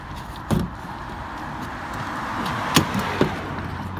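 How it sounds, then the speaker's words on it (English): Car door clunks and latch thuds on a street, a sharp knock near the start and two more a couple of seconds later over steady background noise. "Come on, door, open up."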